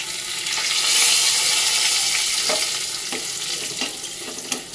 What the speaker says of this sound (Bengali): এর মধ্যে কিছু গোটা গরম মশলা নিয়েছি, গোটা জিরে, তেজপাতা, শুকনো লঙ্কা, এটা তেলে দিয়ে দেবো।